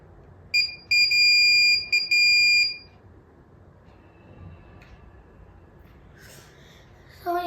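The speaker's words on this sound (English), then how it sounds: "If I show dark, the buzzer." A homemade touchless doorbell's electronic buzzer sounds in three loud, piercing bursts, the middle two close together, then falls silent in a quiet room before a faint beep near the end.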